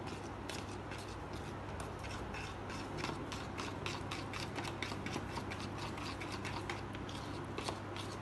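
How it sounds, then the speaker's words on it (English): Pancake mix, one egg and a little milk being stirred together in a bowl, a steady stream of quick clicking, tapping strokes from the utensil that runs close and fairly quiet throughout, with no talking. "Now I'm going to just mix it."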